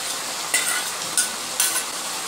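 Mutton with ground fried spices is sautéed and stirred in a pan, a steady soft sizzle with three brief bursts of louder scraping as the meat is turned.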